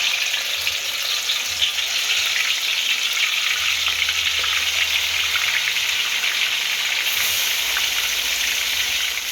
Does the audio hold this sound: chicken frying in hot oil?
yes